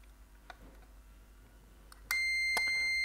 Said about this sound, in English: So bring in the multimeter. Switch to continuity.